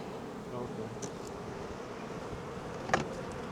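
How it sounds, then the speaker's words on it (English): Honeybees buzz steadily around hive frames during a beekeeping inspection, a close, continuous insect hum with a brief sharp knock near the end. "They're called nursing bees."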